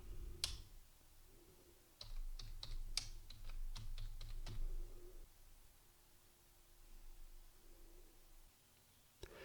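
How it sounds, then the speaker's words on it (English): Computer keyboard typing of a username and password: a quick burst of crisp key clicks, then a pause and a few more, close and alone against quiet room noise. "Now we can type username, admin, and our password."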